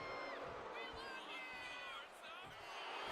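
Crowd cheering fills a WWE 2K26 video game wrestling arena, a steady loud roar with rising whoops, running continuously under commentary.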